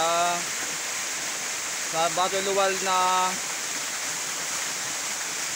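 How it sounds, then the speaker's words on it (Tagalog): A small waterfall gives a steady broadband rush of falling water outdoors, constant throughout, while someone talks briefly over it in the middle. "Maliit lang na talon, hindi na makalakayan."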